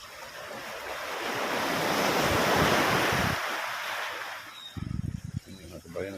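Ocean waves surge and wash over a rocky shore during fishing, swelling to a loud broadband roar midway with wind buffeting, then easing; low thumps and brief voices appear near the end.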